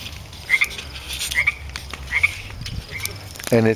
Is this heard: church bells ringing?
no